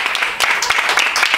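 A studio audience breaks into applause, a brief dense burst of many hands clapping, loud and close, with voices calling out over it.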